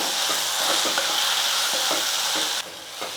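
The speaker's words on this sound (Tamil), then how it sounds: "இதெல்லாம் சேர்த்து ஒரு நிமிஷத்துக்கு வந்து இந்த எண்ணெயிலே மசாலாலாம் நல்லா வதங்கட்டும்" Masala with Kashmiri chilli powder fries in hot oil with a steady, loud sizzle, broken by repeated scraping stirs of the spoon through the pan, close by with no talk.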